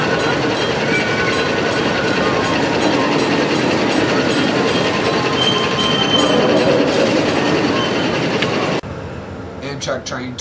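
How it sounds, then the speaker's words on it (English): Amtrak Texas Eagle train 22 departing Fort Worth: a loud, steady rumble of rolling railcars with clickety-clack from the wheels, cutting off near the end to a quieter scene. "Texas Eagle Train 22 in Fort Worth is departing possibly for Chicago."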